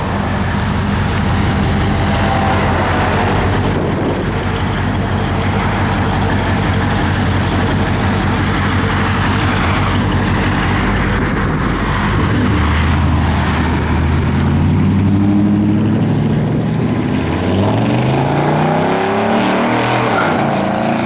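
A 1962 Chevrolet Impala restomod engine runs loud and near, with a steady rumble that shifts in pitch partway through as it revs.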